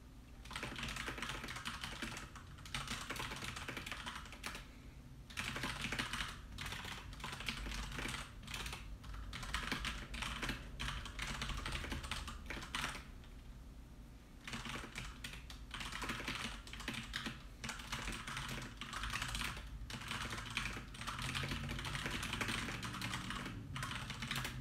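Continuous rapid typing on a computer keyboard, dense clattering keystrokes with repeated runs of the same keys, close and steady for about twenty-five seconds with only brief pauses.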